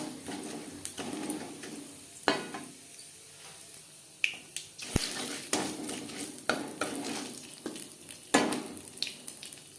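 Panch phoron spices crackle in hot oil in a wok, a soft sizzle broken by sharp pops and scraping stirs of a spoon against the metal.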